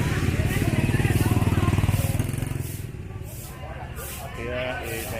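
A motorbike passes close by in a busy Saigon street, its buzzing engine loud for the first couple of seconds and then fading, with street noise continuing underneath.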